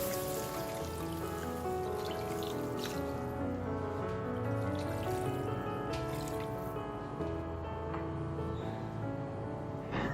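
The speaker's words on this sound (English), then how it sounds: "500 ml of water goes in next." Water, about 500 ml, pours into a pot of mutton bones, a steady, dense trickling and splashing stream that runs continuously at even volume, close by, with no speech.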